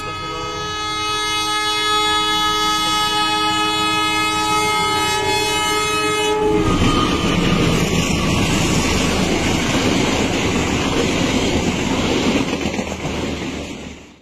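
A loud, sustained train horn blares for several seconds, then gives way to the heavy rumbling roar of a train rushing past close by, in Sepanjang, Indonesia.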